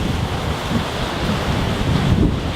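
Ocean surf washing onto a beach at a kite-surfing spot, steady broadband rush mixed with wind buffeting the microphone, continuous and fairly loud with no voices.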